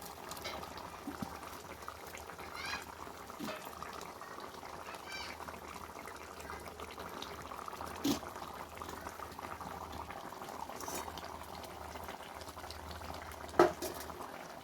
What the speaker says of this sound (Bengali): তারপর এটা ফুটতে শুরু করেছে